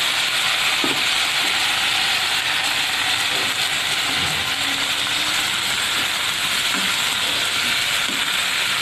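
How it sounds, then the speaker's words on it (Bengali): Salted bitter gourd frying in hot oil with black cumin seeds, giving a steady, loud broadband sizzle that holds evenly throughout with faint crackles and utensil ticks underneath and no talking. "উচ্ছেটাকে বেশ লাল করে ভাজতে হবে।"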